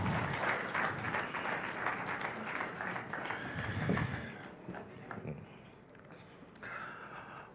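Summit audience clapping as a speaker walks up to the stage, moderately distant applause that thins and fades out toward the end, with a voice briefly heard.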